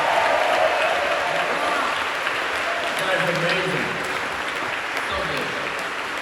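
A concert audience at a show in London's Union Chapel applauds and cheers steadily throughout, a dense wash of clapping with a brief spoken word from the stage over it.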